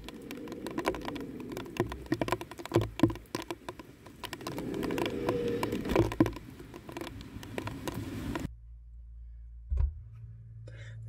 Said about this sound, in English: So it's a really, really rainy morning.